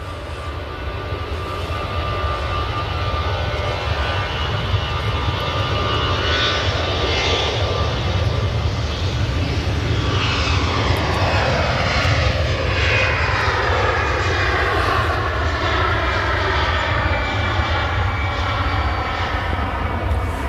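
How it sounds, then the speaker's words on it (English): Lufthansa Airbus A320 jet departing Manchester Airport for Frankfurt, its engines swelling into a loud, sustained roar with sweeping tonal whines as it passes close by. "So that's the Lufthansa A320s going back to Frankfurt"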